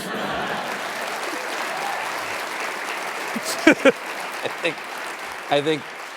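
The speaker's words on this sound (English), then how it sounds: "I think they might be applauding for meat" Studio audience applauding on a cable news show, steady moderate clapping throughout, with a few short voices and a brief laugh breaking through near the end.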